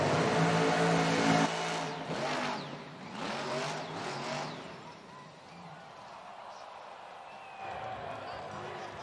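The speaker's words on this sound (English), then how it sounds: "20 seconds left on the clock for Matt Cody, Gravedigger. Final truck here in freestyle" The Gravedigger monster truck's engine roars and revs through a freestyle run at a Monster Jam arena event in Omaha, with loud bursts that fade into a distant rumble under the announcer's running commentary.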